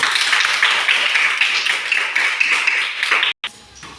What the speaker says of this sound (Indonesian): Kita tepuk tangan dulu dari kelompok 1.